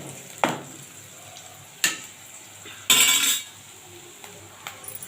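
Salt and turmeric being stirred into an egg curry in a pan, with a few sharp spoon scrapes and clinks against the metal over a faint sizzle, close and otherwise quiet.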